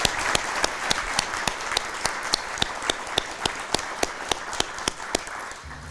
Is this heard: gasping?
no